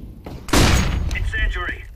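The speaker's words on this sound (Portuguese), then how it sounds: "Throwing flashbang." A flashbang grenade is thrown in Counter-Strike: a sharp, loud burst of game noise lands about midway and is followed by ringing effects, with players talking over it.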